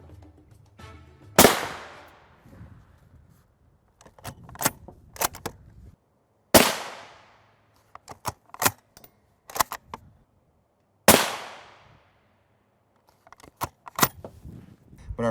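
Three loud, sharp gunshots ring out at a Highcom 3S9M NIJ Level III++ armor plate, evenly spaced several seconds apart, each followed by a decaying echo, with quieter clicks and handling noises between shots.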